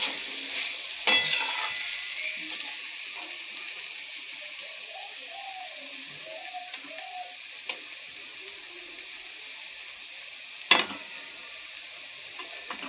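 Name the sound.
potatoes frying and being stirred often in a kadai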